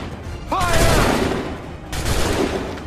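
Musket volley gunfire from Assassin's Creed III: a dense, booming burst of massed shots, then a second rolling volley about a second and a half later, with a shouted command rising over the first blast.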